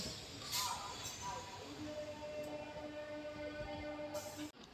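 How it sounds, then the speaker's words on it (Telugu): A MEMU passenger train on the Vijayawada to Machilipatnam line rumbles steadily along, with sustained tonal whines and horn-like bands over continuous running noise, close and fairly loud, ending with an abrupt cut. "విజయవాడ నుండి మచిలీపట్నం వెళ్ళడానికి లాస్ట్ మెమూ ట్రైన్ ఇదేనండి"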